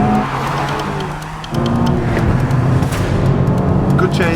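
A Toyota GR Corolla and a Honda Civic Type-R drag race from a rolling start, with loud engine roar swelling as the cars launch and accelerate hard, while people talk over the noise.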